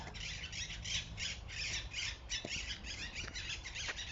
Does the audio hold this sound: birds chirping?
yes